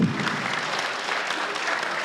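Audience applause at a fan convention panel reunion, a steady dense wash of clapping from a crowd that holds evenly throughout without talk.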